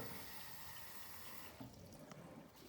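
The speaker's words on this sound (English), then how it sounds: "we're going to put water inside the incubator" Water pours steadily into an egg incubator at close range, a continuous rushing flow that shifts in tone partway through as the level changes.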